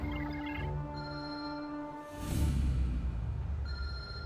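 A mobile phone rings with sustained melodic tones, then a loud rushing, rumbling noise swells in and the ringing resumes faintly over it.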